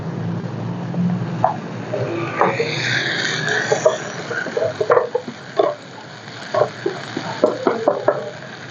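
A spoon stirs pork belly frying with shrimp paste in a pan. A soft sizzle runs underneath, and irregular scraping clicks come through more often toward the end.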